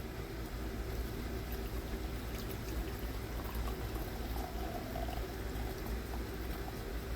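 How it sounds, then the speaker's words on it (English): Corncob jelly liquid is poured slowly through cheesecloth in a home kitchen, giving a faint, continuous close trickle with no talking. "I'm just pouring it a little slow to make sure that it goes through the cheesecloth"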